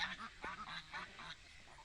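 African geese and ducks in a mixed flock of females give repeated quacks and honks that overlap in an irregular chatter. The calls sit close and fairly faint.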